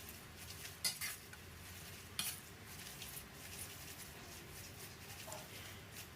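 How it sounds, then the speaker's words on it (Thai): Noodles being tossed and mixed with fried garlic for Thai mee kati: a soft continuous rustling and stirring with faint light clinks of a utensil, no one talking. "แล้วก็คลุกคลุกให้ เข้าเส้นนะครับ ให้มันทั่วเลยนะครับ เส้นจะได้ไม่ติดกันนะครับ"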